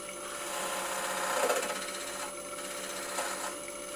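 A bowl gouge tip cuts wood on a lathe to flatten the foot of a bowl, making a continuous close rasping, whirring scrape that swells and eases over a few seconds.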